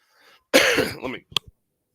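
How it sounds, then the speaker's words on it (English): A single harsh, throaty cough burst followed by a trailing rasp and a short second catch, close and fairly loud, with faint murmuring before it. "I've been sick, guys, so I might be coughing a little,"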